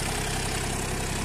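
A Punjabi farm tractor idles nearby with a steady, even rumble and no other sounds.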